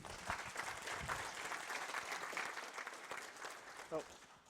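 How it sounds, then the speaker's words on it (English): Applause from a conference audience at HaskellX, scattered hands clapping at moderate distance with a few louder individual claps, continuing for a few seconds. "please give them a warm round of applause"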